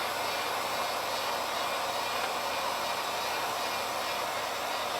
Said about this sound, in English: Y'all know I got a love-hate thing for this heat gun.